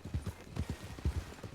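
Horse hooves clip-clop in a video game, a quick uneven run of soft, muffled thuds, fairly close with no talk.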